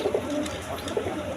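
Pigeons from a breeding pair of Gola pigeons coo nearby, giving a few soft, low throaty calls over a faint room background.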